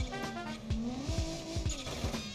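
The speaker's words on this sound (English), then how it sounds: "Oh, that blow-off valve sounds so good." A turbocharged V6 car in the BeamNG video game gives a rising, shifting engine note, with quick whooshing blow-off valve bursts repeating several times over a couple of seconds, fairly quiet overall.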